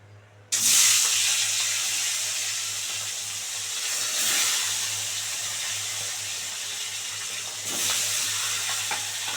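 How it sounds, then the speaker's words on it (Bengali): Fish hitting hot white oil in a pan for fish kofta, setting off a sudden loud sizzle that carries on as a steady hiss, with brief surges as the pieces are moved. "তেল গরম হয়ে গেছে, এবারে মাছটা দিয়ে দেবো।"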